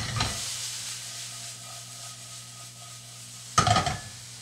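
Bacon and onions frying in a pan for pasta carbonara, a steady broadband sizzle with a low hum underneath and two sharper bursts of stirring or pan clatter, one at the start and one near the end.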